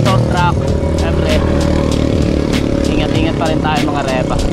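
Steady roadside traffic noise with motorcycles and trucks passing close by, while a person talks over the rumble throughout.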